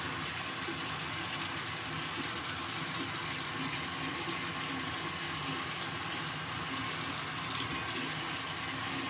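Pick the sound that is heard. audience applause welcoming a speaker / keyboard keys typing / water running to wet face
water running to wet face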